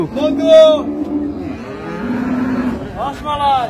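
Hybrid dairy cows moo loudly at a busy cattle market, a long low call followed later by another, with people talking in between.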